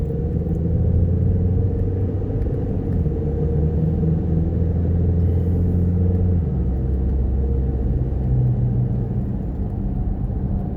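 A car cruises along International Drive in Orlando, with a steady, loud interior rumble of engine and road noise that continues unbroken throughout.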